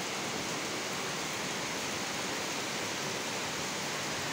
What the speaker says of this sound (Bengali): বাপরে প্রচন্ড বৃষ্টি হচ্ছে।